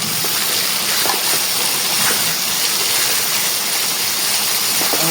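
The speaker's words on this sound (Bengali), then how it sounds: "মাংসটা এখন দিয়ে দিচ্ছি।" Beef going into spice paste fried in hot oil for a Bengali beef and taro-leaf curry, giving a steady, loud, broadband sizzle and hiss that runs unbroken throughout with no talking.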